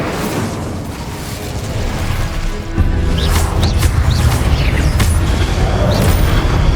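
A Confringo fire spell in Hogwarts Legacy on PS5 erupts into a loud, rumbling explosion that swells suddenly partway through and holds as a heavy, crackling roar, with sharp sparkling bursts on top.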